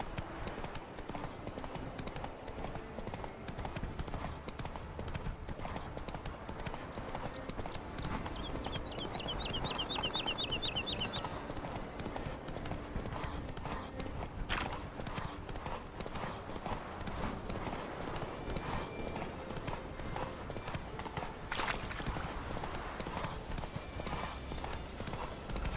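Horse hooves clip-clop steadily at a gallop in The Witcher 3 video game, a continuous rhythmic beat under game ambience, with a brief bird call partway through.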